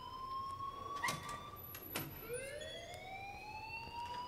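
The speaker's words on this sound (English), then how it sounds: "please turn off that alarm since that's your job" Alarm in the Life is Strange video game, a faint electronic tone with a steady high pitch that drops, then rises again in a sliding sweep, heard alone at low level with a few sharp clicks.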